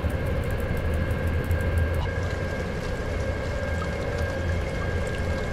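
An EC electric express train runs between Psary and Zawiercie in the SimRail game, giving a steady, loud rolling rumble with a constant electric whine and faint rhythmic rail clatter throughout.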